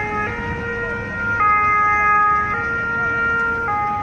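An ambulance siren wails steadily in a two-tone pattern, switching pitch every second or so, loud and continuous on a street in Nice, France, with faint road noise underneath.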